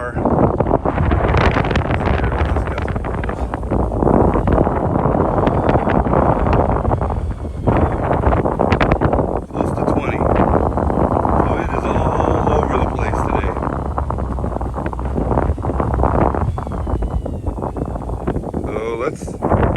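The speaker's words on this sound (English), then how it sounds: "Stuff is blowing pretty good. Let's see how much wind we got today." Strong, gusting wind outdoors at a flying field buffets the microphone in a continuous loud roar that swells and dips, while someone talks under it.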